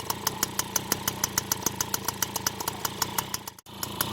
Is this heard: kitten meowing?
no